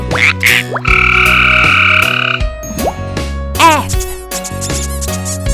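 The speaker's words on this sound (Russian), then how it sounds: "Frog." Loud, close croaking frog calls repeat in short bursts, some held and some chirping, with musical tones underneath.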